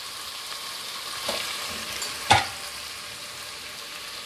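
Tomatoes and onions sautéing in a pan for an Indian egg gravy, a soft continuous sizzle with a couple of brief stirring scrapes, one sharp clink midway.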